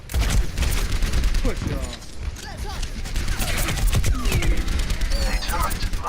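Rapid turret gunfire in Overwatch, a dense continuous rattle of shots in a busy battle mix, with a voice calling out over it.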